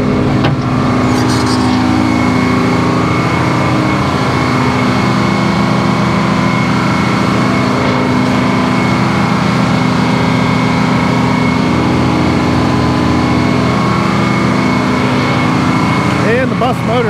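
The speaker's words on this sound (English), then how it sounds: "And the bus motor sounds good." An old bus engine powering a sawmill while a big pine log is sawn, running steadily and loudly close by for the whole stretch with a constant mechanical drone and hum.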